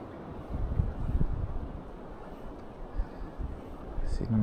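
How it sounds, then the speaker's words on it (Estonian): Strong gusty wind outdoors beside a fast-flowing river during fishing, a rough low rumble buffeting the microphone in uneven surges, with a brief sharper clatter near the end. "täna on ikka tuuline, ikkagi oksi kukub puu otsast alla."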